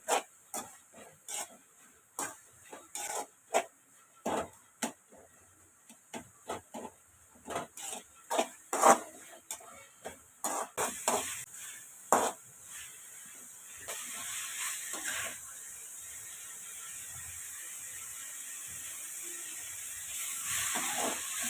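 Tomatoes stirred and sautéed in a pan for tomato rice, with sharp spatula scrapes and clicks against the pan over a steady sizzling hiss that grows louder and continuous in the second half; no talking.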